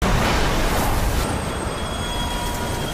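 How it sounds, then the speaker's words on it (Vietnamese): A subway train grinding to a halt inside a collapsing underground facility, a loud, dense rumble with continuous rail noise and high squeal streaks throughout, close and steady. "Với sự sụp đổ của lâu đài, tàu điện ngầm cũng bị ảnh hưởng và dừng lại."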